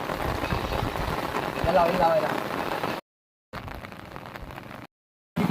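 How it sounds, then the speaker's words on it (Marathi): Heavy rain pours down on a rice paddy during planting, a dense, steady hiss close by, broken by brief silent gaps, with voices talking over it. "मुसळधार पाऊस पडतोय आणि या मुसळधार पाऊस आम्ही लावून लावतो"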